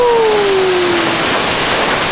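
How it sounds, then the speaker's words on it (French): A jungle waterfall in Panama roars as a steady, loud wash of falling water, with a faint descending whistle-like tone gliding down over the first second. "Regardez la cascade, elle est vraiment belle là."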